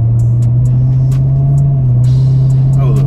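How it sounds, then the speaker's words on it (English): A Corvette Stingray engine hums with a steady, deep, close rumble as the gas is pressed, staying subtle rather than loud and holding an even drone throughout. "It ain't gonna be outrageously loud unless you just hit the gas like I just did."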